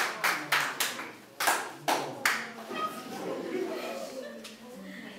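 An audience claps in a few sharp, separate bursts, then lighter scattered claps as someone briefly speaks over them; fairly near and moderate in volume.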